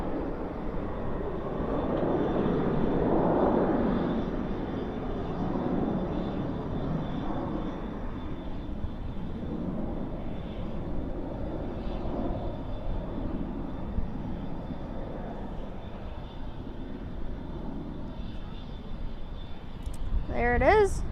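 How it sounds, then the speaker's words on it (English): A Qatar Airways A350 departs Dallas/Fort Worth airport at night, a distant broad jet roar swelling then fading under steady background rumble, with people talking nearby. "That's the Qatar Airways A350."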